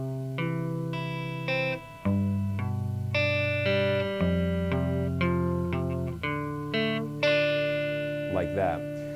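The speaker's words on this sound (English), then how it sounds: "So the four chords put together sound like this." Electric guitar with effects playing the four-chord turnaround from a song, each chord ringing out in turn, close and steady, with no talking over it.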